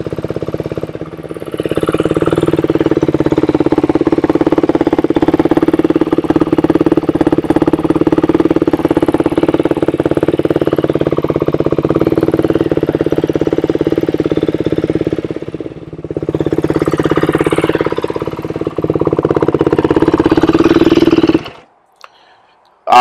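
Yamaha YZ250F dirt bike engine idling nearby, a loud, steady low rumbling drone that dips briefly midway and cuts off just before the end.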